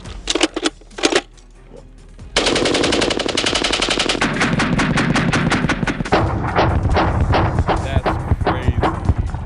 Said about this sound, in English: I need you to man that Gatling gun.